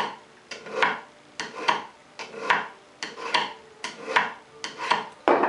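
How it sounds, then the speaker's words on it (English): Screwdriver shaft drawn along a card scraper's edge to remove the burr, about eight evenly spaced scraping strokes with a rasping metallic ring, close and clear, no talking. "I have my screwdriver straight up and down. I'm going to drop it on to the tool and pull it on and off"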